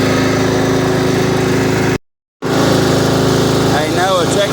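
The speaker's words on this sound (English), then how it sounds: "Hey Noah, check how fast this mower is" A riding lawn mower engine runs loud and close with a steady buzzing drone, cut by a brief silent gap, and a voice speaks over it near the end.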